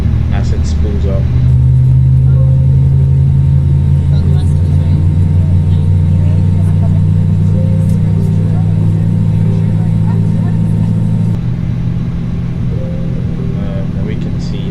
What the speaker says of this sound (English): we'll do the same for engine number 1 as it spools up